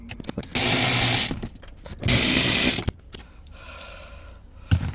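A tool ratchets and whirs while unscrewing M10 spline bolts beneath an Audi A4 B8 front seat, in two loud close bursts of about a second each, then quieter scraping and clicks.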